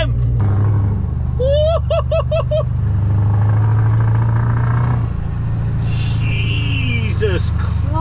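A tuned Scania V8 truck engine rumbles loud and close, with deep revving and tire-spinning roar, while a person speaks and shouts over it.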